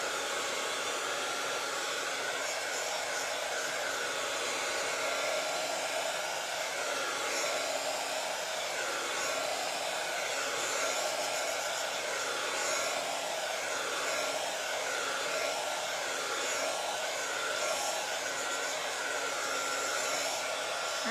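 A noisy hair dryer blows steadily and loudly for the whole stretch as it dries a few wet spots, with its constant airy roar never letting up.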